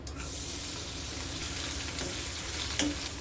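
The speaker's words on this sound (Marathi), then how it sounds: "आपलं तेल तापलेलं आहे, त्यामध्ये कढीपत्ता, मिरची आणि लसूण हे टाकून घेऊया." Curry leaves, green chillies and unpeeled garlic crackle and sizzle loudly after being dropped into hot oil in a pan for spicy anda ghotala, a dense, steady spitting hiss with one sharp pop near the end.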